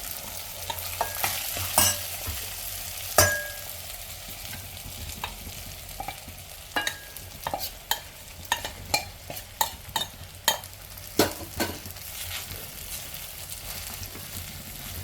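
Sabudana (tapioca pearls) frying in a pan with fried ingredients, a continuous sizzle broken by scattered scraping and clinking strokes of a spoon stirring against the pan, close and moderately loud.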